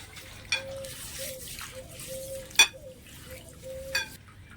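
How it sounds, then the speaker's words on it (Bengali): Neem leaves are washed by hand in clean water: soft splashes and sloshing with a few sharper clinks of a container, quiet and close. "এবার এই নিম পাতাগুলো একটু পরিষ্কার জল দিয়ে একটু ভালো করে ধুয়ে নেবো"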